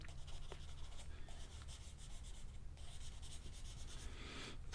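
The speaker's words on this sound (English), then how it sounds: "The pencil laying flat." Soft, steady scratchy rubbing of a graphite pencil held flat and shaded across drawing paper, a close, continuous dry texture with slight variations in stroke over a low background hum.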